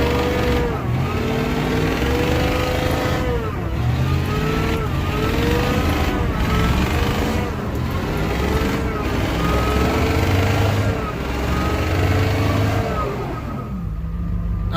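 A supercharged Ford 7.3 IDI diesel truck engine revs hard again and again, loud and close, with rising and falling roars over a constant rumbling idle.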